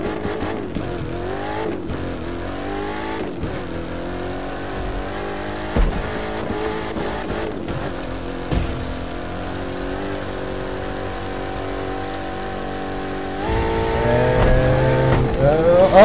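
A remote-control car in the racing video game The Crew 2 buzzes steadily at close range with a whiny engine tone that rises and falls. Near the end, the sound turns into a louder rushing splash as the car drives through water.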